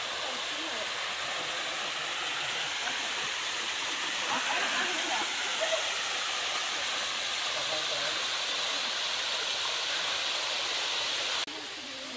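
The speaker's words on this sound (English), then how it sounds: "So I made it to Manoa Falls." Manoa Falls in Hawaii roars in a steady, unbroken wash of rushing water that fills the whole scene from start to finish.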